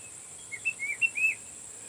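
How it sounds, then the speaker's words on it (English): A pet bird gives a few short, thin chirps in a quick cluster, fairly faint against a steady background hiss in a quiet home. "Oh, I hear my bird."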